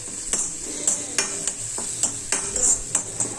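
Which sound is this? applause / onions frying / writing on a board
onions frying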